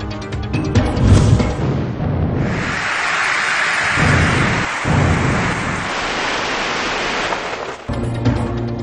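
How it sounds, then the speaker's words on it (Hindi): A thunderstorm with torrential rain in Rawalpindi and Islamabad, a loud rolling rumble of thunder over a dense roar of heavy rain, close and sustained with a sudden break near the end. "रावलपिंडी, इस्लामाबाद और गिरदनवाह में मूसलाधार बारिश"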